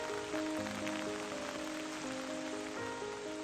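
Steady rain falling and pattering on surfaces, a continuous dense hiss throughout, with faint sustained tonal notes underneath.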